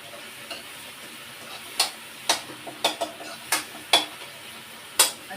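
Tomato, chilli and onion tempering for macaroni sizzles softly in the pan while a spoon stirs and mashes it, giving a series of sharp metallic taps over the low frying hiss.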